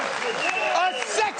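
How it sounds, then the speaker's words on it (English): Studio audience clapping on a talk show, a steady wash of applause lasting the whole moment while a voice talks over it. "How dare you clap at that?"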